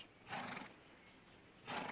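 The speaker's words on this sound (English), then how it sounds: "There's a fine lot of horses here." Horses offered for sale in a 1960s Western television scene: two loud, brief neighs ring out, one near the start and one at the end, over a quiet background.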